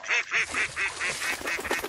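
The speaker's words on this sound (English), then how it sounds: "Male duck." A male duck (drake) quacks in a quick, steady series of about eight close, loud calls over two seconds, with no other sounds.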